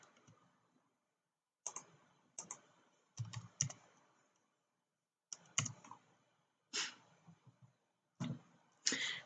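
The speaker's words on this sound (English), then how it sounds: "Type in this answer and times it by 100." Numbers are punched into a calculator in short clusters of crisp, close button clicks. Groups of two or three presses are separated by brief silences, with no voices.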